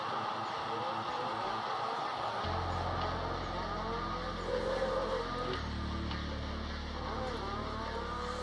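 A race car's engine drones steadily in a sim racing game, its pitch stepping through gear changes as it drives and drifts, loud and continuous throughout.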